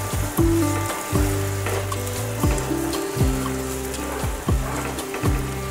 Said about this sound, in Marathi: तेलामध्ये तळल्यामुळे तो कमी होतो, त्यामुळे तिला अशी तेलामध्ये छान परतून घ्यायची आहे